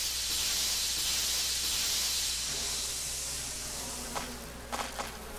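Bees buzz and hiss steadily in a Resident Evil video game, a dense droning swarm that slowly fades, with a few sharp clicks near the end.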